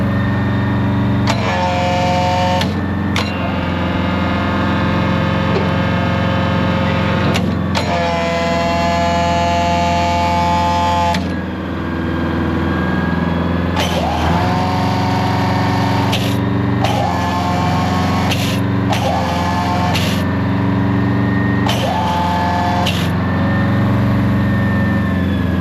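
A LeTourneau Tournapull D diesel-electric machine runs steadily and loud for the whole stretch, its low engine drone overlaid by shifting tonal electric whines that rise and cut out repeatedly, with no talk.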